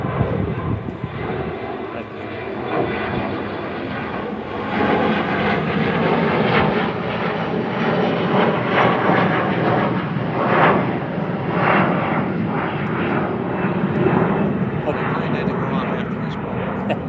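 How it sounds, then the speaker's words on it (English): An airplane passing overhead at an outdoor groundbreaking ceremony for an affordable housing project in Cheektowaga, Erie County, giving a loud, sustained broadband roar that holds steady for over fifteen seconds with a voice faintly underneath. "Of course, there's an airplane."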